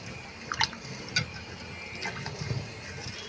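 Lentils being rinsed in water in a home kitchen, with soft splashing and a few brief drips and trickles near the start and again toward the end, no talking.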